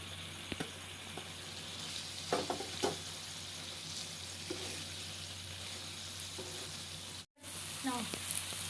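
Prawns frying in hot oil in a pan for a fish fry, a continuous soft sizzle and crackle close by, with a few light stirring scrapes and a brief dropout near the end.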